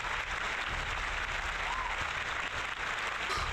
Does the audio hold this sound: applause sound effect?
yes